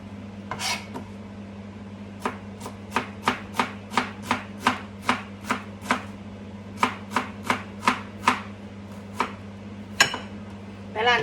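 An onion is chopped on a board with a knife, a long run of evenly spaced crisp chops that pauses briefly midway, close and alone over a low hum.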